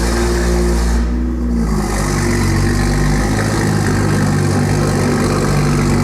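A BMW M2 with a loud aftermarket exhaust idles and is eased forward indoors, a deep, steady booming rumble that fills the space with one brief dip in the middle.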